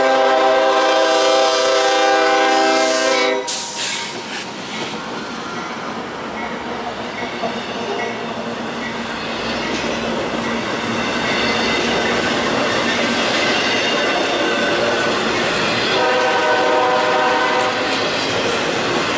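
A long intermodal freight train hauled by GE locomotives rolls past at close range, a loud steady horn blast at the start giving way to continuous rumble, wheel clatter and rail noise for the rest of the pass.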